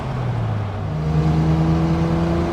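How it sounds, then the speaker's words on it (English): A 1972 Datsun 240Z's exhaust drones steadily under load while cruising in fourth gear, its deep note rising slightly in pitch as the engine pulls, close and loud with no talking. "Super sound out of this car. Great exhaust note."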